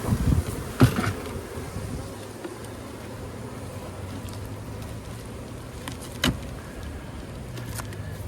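A steady buzz of honeybees hums throughout at open beehive colonies, with a few louder clunks and bumps near the start and another sharp knock later.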